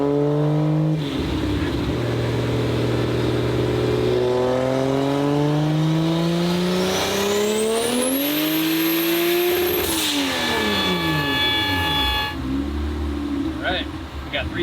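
An 800-horsepower 2JZ-powered Nissan 240sx with a six-speed manual screams through a dyno pull, engine pitch climbing steadily through the gears to a high wail, then dropping sharply as the throttle closes, loud and continuous.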